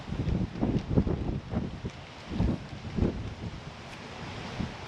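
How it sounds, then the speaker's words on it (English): Gusty wind in a suburban backyard garden in November buffets the microphone, producing uneven low rumbling bursts that swell and fade over several seconds, with no talking. "It's very windy right now, so I apologize if it's coming into the mic"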